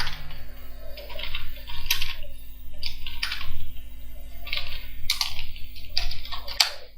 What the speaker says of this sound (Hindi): मैं हेडिंग टाइप कर रहा हूँ एक